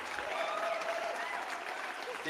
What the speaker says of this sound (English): So we want to give him a round of applause.